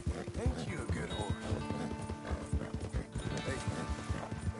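A horse in Red Dead Redemption 2 whinnies while its hooves clip-clop in a steady rhythm, close and fairly loud. Game music and ambience run underneath.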